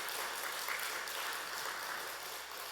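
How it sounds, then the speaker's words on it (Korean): Faint, steady clapping from a church congregation at a Friday night prayer meeting, a soft continuous wash of hands with almost no voices over it. "박수 한번 쳐줘."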